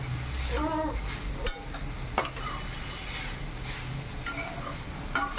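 Radish paratha filling cooking on low heat in a pan, a soft steady sizzle with a few light spoon scrapes and clinks against the metal, close and without talking.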